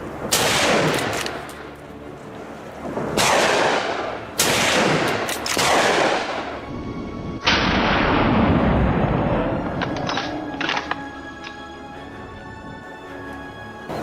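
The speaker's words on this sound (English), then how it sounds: "a rapid succession of shots rang out, felling the monstrous creature instantly" Rapid gunshots fired at a wild boar on a Texas farm, several loud sharp cracks in quick succession, each followed by a long rumbling echo, with a fainter burst of shots near the end.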